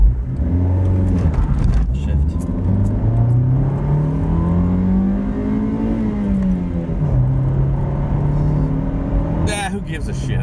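A car with a swapped Honda B16 engine pulls hard from a standstill, its note climbing steadily in pitch through the revs, dipping at a shift and rising again, loud and close with a brief voice near the end.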